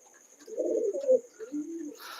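Pigeons in a loft at night give soft, low cooing calls: a rounded burst, a brief pause, then a second, lower coo, close and fairly clear against a quiet background with a faint steady hiss.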